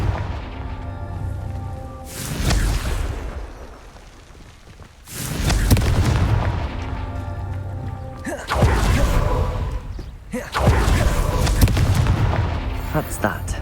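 A Confringo explosion spell in Hogwarts Legacy sounds as a series of loud booming blasts, three or four broad bursts spaced a few seconds apart over game music, with one short spoken word near the start.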